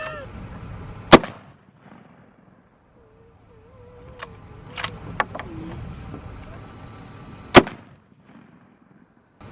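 Gunshots fired at a bullseye target outdoors in the country: two sharp, loud reports several seconds apart, with faint voices and light clatter in between.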